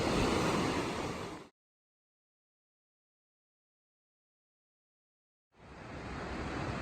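River water rushing beneath a bridge on a mountain trail, a loud broadband roar close by that cuts out into silence for several seconds before returning just as strongly.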